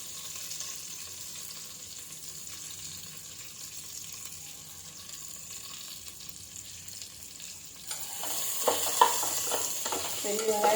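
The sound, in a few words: chopped big onions sautéing in a pan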